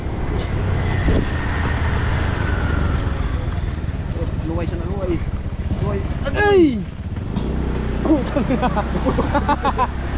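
Two motorcycles carry a fish delivery in Catanduanes, Philippines, their engines droning steadily and loudly under heavy wind rush, while riders talk and shout over the noise.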